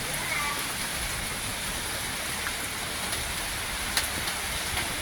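Sudden heavy rain pours down outdoors at a meatball shop, a steady, dense hiss of rainfall with occasional faint drips and ticks, continuous throughout.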